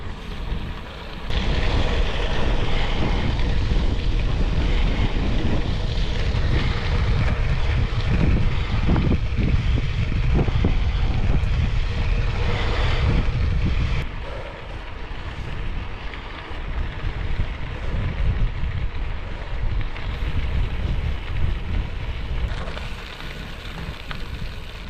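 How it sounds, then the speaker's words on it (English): Strong headwind buffeting a microphone on a bike trail in Nebraska, a loud continuous rumbling roar that eases briefly partway through and then returns. "It is so windy out. I got a headwind and it sucks."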